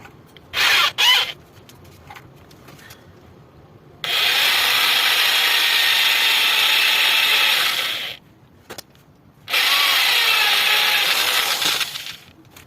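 Small drill bit boring into an engine block oil plug, a steady loud grinding whine in long bursts separated by short pauses and a few brief scrapes, with no talk.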